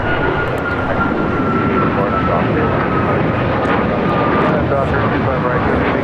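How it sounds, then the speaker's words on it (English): United Airlines Boeing 737 MAX 9 taking off from LAX, a loud, sustained jet engine roar close by, with a person talking over it. "This is United Airlines 1658 taking off to Chicago O'Hare on a MAX 9."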